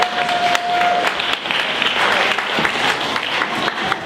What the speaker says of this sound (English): Let's go ahead and give Nathan a huge round of applause, you guys.